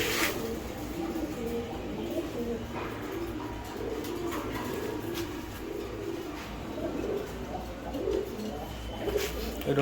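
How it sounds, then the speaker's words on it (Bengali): Racing pigeons of the Giribaz breed coo softly and repeatedly at close range, with low background noise and occasional faint voices. "এই আর এক জোড়া কবুতর দেখেন"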